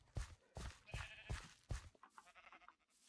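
Blocky Minecraft sheep bleat five times in a quick, fairly even series, each cry loud and close. A few softer scattered game sounds follow at the end.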